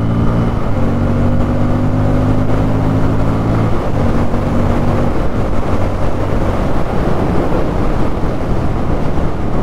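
A 2024 Bajaj Pulsar N250 motorcycle being ridden, its engine droning with a steady low hum that shifts pitch as it changes speed, largely buried under loud, constant wind roar buffeting the microphone.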